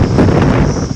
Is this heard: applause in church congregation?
no